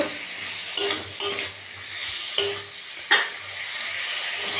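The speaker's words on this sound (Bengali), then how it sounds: "এবার মশলার মধ্যে দিয়ে ভালো করে কষিয়ে নেব" Boiled potatoes sautéed with spices in a pan make a constant close sizzle, with around five scraping stirs of a utensil against the pan at uneven intervals and no voices.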